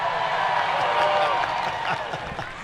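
Capacity crowd at Muskingum County Speedway after a Lucas Oil Late Model Dirt Series feature, a broad roar of cheering and applause that fades slightly toward the end, with an announcer talking over it.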